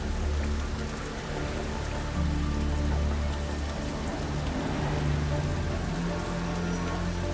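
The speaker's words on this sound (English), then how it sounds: "Strong winds and heavy rain thrash the city in the warm tropical air." Heavy northeast monsoon rain pours steadily over the city of Singapore in warm tropical air, a dense continuous hiss of drops drumming on surfaces with a deep roar of strong wind beneath, loud and unbroken throughout.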